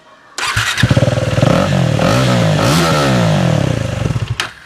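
A KTM Duke 390 motorcycle with its stock exhaust removed starts up close by and runs loud and raw, with a rapid, throaty, uneven idle and a few quick blips of the throttle.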